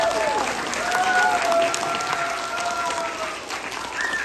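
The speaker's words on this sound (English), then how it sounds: "can you guys give a big round of applause for Amir?" A room of listeners at a disability awareness talk claps for a guest, steady applause with a few whoops and whistles rising above it.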